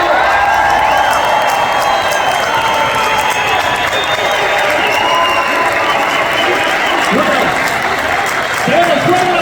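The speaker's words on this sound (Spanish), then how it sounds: "si quieren le damos otro aplauso a todos juntos" A large crowd of the diaspora applauds its deputies at a rally, with dense sustained clapping and cheering that stays loud and steady throughout, with voices mixed into the roar.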